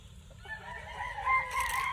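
Sweater-breed gamecocks on a farm, one crowing loudly and close over a low background hum with a few faint clucks.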